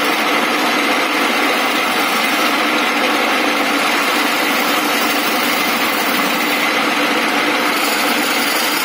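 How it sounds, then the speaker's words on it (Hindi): A wood lathe machine carves a design into a wooden board. It gives off a loud, constant mechanical whine and hum that holds steady throughout, close up, with no talking. "खराद मशीन कहते हैं और इंग्लिश में इसे कहते हैं लेथ मशीन"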